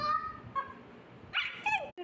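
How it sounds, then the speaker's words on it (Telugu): A pet dog barks sharply a few times and lets out high whimpers and yips, close by, while a person talks excitedly over it. "చూడండి డాగ్ ఎట్లా వస్తుండు బయటికి"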